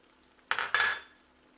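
Tomatoes and potatoes are stirred in a cooking pan for Banaras tamatar chaat: two quick scraping, sizzling strokes close by, fading into a soft simmer, with no talking.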